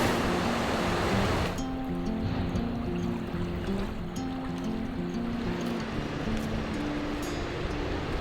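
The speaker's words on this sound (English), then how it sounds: "there's actually a river that runs right through it" A river flowing through Oslo, a steady broadband rush of water heard close and continuous, with a low tonal hum running underneath.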